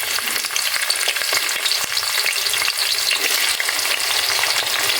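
Whole cumin seeds and onion frying in hot oil give a loud, steady, dense sizzle with faint crackles, alone and close up, no voices.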